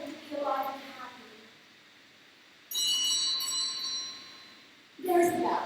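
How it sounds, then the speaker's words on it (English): A bell rings in a stage play of A Doll's House, a bright sustained ring heard twice in short bursts, with a voice talking before it. "There's the bell."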